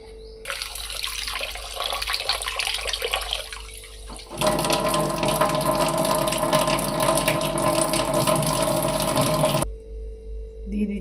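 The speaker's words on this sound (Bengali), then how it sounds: "এবার আমি চালটা ধুয়ে নিচ্ছি।" Tap water runs steadily into a bowl while rice is washed in a home kitchen for jaggery payesh, a continuous splashing stream that grows louder midway and then stops.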